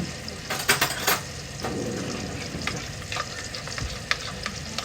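A spoon stirs a patty mixture after liquid sugar is poured in, making a cluster of clinking scrapes early, then softer intermittent scraping with occasional light taps under a faint background hiss.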